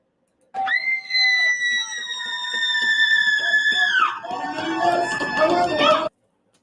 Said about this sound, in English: Yeah, you screamed.